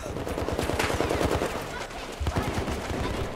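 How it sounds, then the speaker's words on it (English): Minigun firing in a Battlefield 4 firefight, rapid rattling bursts of gunfire close by, pausing briefly midway before resuming, with voices talking over the shooting. "You could do that with the minigun."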